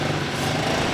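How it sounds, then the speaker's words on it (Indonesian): Motorbikes pass close by on a roadside in Sunter, North Jakarta, giving a steady, fairly loud buzzing engine drone throughout. "maafin kalau ada suara-suara motor karena kita persis ada di pinggir jalan."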